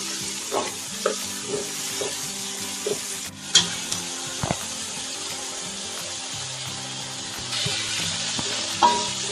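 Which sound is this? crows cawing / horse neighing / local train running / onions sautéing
onions sautéing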